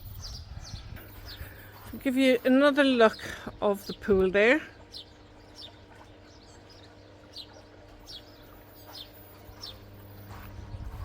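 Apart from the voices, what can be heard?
birds tweeting outdoors by a pool in Spain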